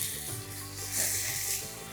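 Ground coriander paste sautéing in a pan, giving a continuous close sizzle and hiss with faint stirring, alone for under two seconds.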